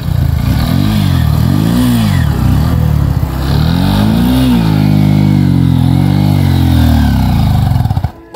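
A motorcycle rounding at Dhorpatan, its engine revving up and down in repeated swells as it circles, loud and close throughout, with no talk over it before cutting off at the end.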